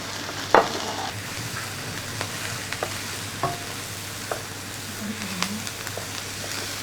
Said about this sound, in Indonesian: Kita tumis, masukkan udangnya sampai berwarna merah ya, sampai berubah warna udangnya.